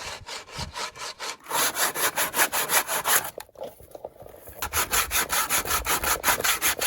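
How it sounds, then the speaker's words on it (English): Sandpaper rubs rhythmically back and forth over a piece of wood, close and steady, with a brief pause partway through before the scraping strokes resume. "we can sand it down by using this sandpaper"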